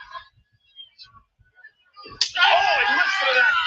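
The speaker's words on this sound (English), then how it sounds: "Oh, and listen to that kick." A sharp slap-like impact from a wrestling kick at WrestleMania 41 Night 1 bursts out about two seconds in, followed by a loud, sustained arena crowd roar, with faint scattered noise and voices before it.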